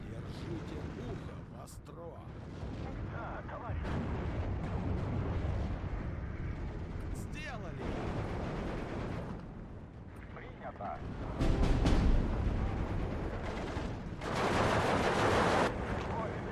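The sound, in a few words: gunfire hitting transports in the Steel Division 2 video game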